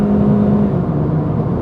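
A 2017 Subaru BRZ pulling hard along a straightaway, its engine note loud and close, droning steadily with a rising tone throughout the short burst.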